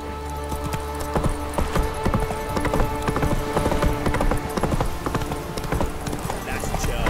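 Horse hooves clip-clop steadily in The Witcher 3 on PC, a continuous rhythmic trot at moderate loudness, mixed with game music and ambient layers, with a voice talking over it.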